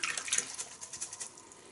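Lukewarm water runs into a basin for washing a telescope mirror, a faint splashing trickle that pulses briefly and quickly settles.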